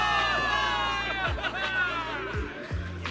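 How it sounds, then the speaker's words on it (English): A crowd of soldiers cheers a victory for the people of New Eridu in Zenless Zone Zero, with dense overlapping shouts and chatter at steady loudness across the scene. "Give it up for yourselves, soldiers! Cheer for victory!"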